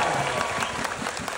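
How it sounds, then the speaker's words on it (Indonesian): A stand-up comedy audience claps steadily in a brief burst of applause, dense and fairly loud, as if in a hall. "Coba tepuk tangan."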